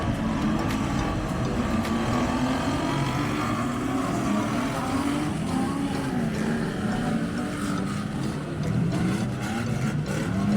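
Street stock race cars lapping the dirt track at Woodford Glen speedway, a continuous engine roar with rising and falling revs as the pack passes, loud and fairly close.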